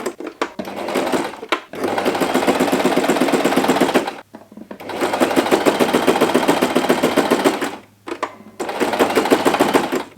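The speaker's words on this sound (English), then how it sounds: "we're ready to take that over to the sewing machine" A sewing machine stitches a fabric coaster cut from fat quarters on a short straight stitch, running in three steady, loud motor bursts separated by brief pauses.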